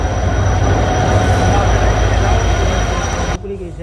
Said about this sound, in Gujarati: ટ્રેન આવી ગઈ છે આપણે અહીંયા સાબરમતી વાળી